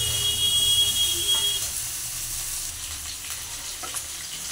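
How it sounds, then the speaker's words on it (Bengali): Ground spice paste fries in a wok for a cauliflower egg curry, an even close sizzle that softens after the first couple of seconds, with a few faint scrapes. "এবার এর মধ্যে দিয়ে দেবো বাটা মশলাগুলো, দিয়ে ভালো করে কষাতে থাকবো।"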